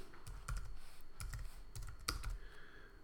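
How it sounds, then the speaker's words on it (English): Typing on a computer keyboard to enter a name into a form field: quick clusters of light key clicks in bursts with short pauses, close and moderately quiet with no talk. "So if I try to type in here"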